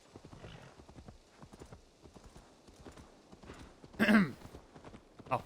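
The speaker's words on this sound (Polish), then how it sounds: "Koń, mógł być troszeczkę szybciej." Horse hooves clop rhythmically on the ground in the video game Assassin's Creed Valhalla, a fast, regular run of close hoofbeats, broken near the end by a loud neigh and a short snort.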